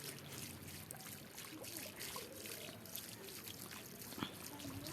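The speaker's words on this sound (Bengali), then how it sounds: "এই যে পুরো গরম জল বেরোচ্ছে" Hot water from a hot spring trickles and pours steadily out of a pot, a continuous close watery flow with bubbling texture throughout and no talk.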